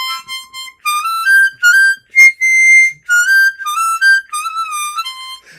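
An octave low C harmonica plays high notes on holes 7 to 10, a string of bright, clear, whistle-like tones in short separated phrases, loud and close with no talking.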